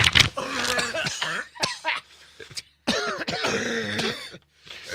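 Repeated coughing and throat clearing, harsh and close, in several bursts with short pauses between.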